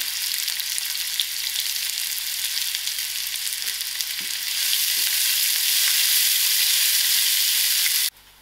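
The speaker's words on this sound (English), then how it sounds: "First I'm going to put in my onions and allow my onions to fry out." Onions frying in a pan give a steady, close sizzling hiss that swells louder halfway through and then cuts off abruptly near the end, with no voice.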